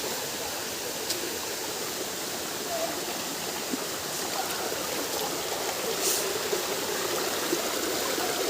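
Steady, broadband rush of a waterfall, a constant roaring wash with a few faint tonal blips on top.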